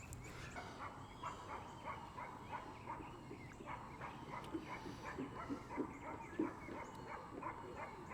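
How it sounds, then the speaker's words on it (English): A small yappy dog barks repeatedly in quick, uneven yips at a distance, faint against steady background noise. "Close call with the little yappy dog."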